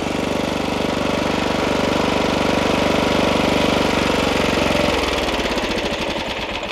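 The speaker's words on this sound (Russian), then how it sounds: "чуть-чуть газ открыл и завел" A Neva walk-behind tractor's small engine runs steadily and loud nearby with a dense mechanical chatter, its tone dropping and roughening near the end as the revs change.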